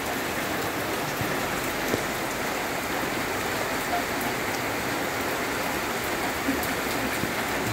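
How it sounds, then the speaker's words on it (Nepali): Heavy monsoon rain pours down in a dense, even hiss of drops hitting surfaces, steady and unbroken from start to finish. "साउने बर्खामा यति धेरै पानी परेको छ"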